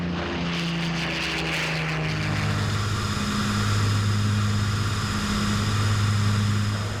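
A wooden fighter plane flies with twin propeller engines droning steadily and loudly, with a continuous roar and shifting engine tones throughout.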